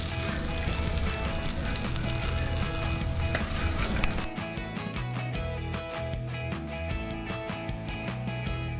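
Ingredients for a mutton curry sautéing in an oily pan, a steady loud sizzle running throughout with occasional scrapes of stirring, close and continuous with no talking.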